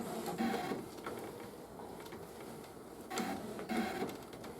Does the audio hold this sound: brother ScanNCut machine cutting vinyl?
yes